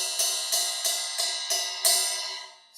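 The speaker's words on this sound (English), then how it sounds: "Straight 8th notes sound like this." A drum kit ride cymbal plays straight eighth notes: six evenly spaced, bright strokes, each ringing with a long shimmering decay, heard alone and up close.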